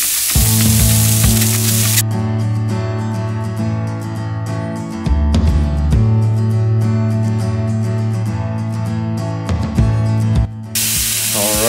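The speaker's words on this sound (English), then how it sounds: "I am going to go ahead and I am going to spritz before I wrap." A smoked pork butt on an Oklahoma Joe's Bronco grill is spritzed, with bursts of spray hiss at the start and end and sizzling in between, close and fairly loud over a low steady hum.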